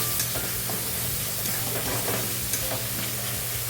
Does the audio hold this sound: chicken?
no